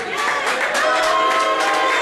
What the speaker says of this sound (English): he's getting some applause from the fans